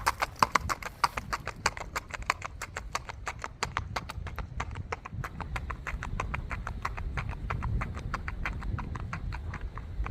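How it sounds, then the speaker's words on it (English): Steady, rhythmic hoofbeats of a tall Tennessee Walking horse moving at an even gait, each footfall crisp and close, continuing without pause. "We're going to get him gaiting coming back."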